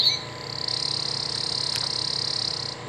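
A Wild Republic Audubon plush chipping sparrow plays its recorded song, a single sustained, dry, rapid trill held steady for a couple of seconds, close and clear with nothing else heard.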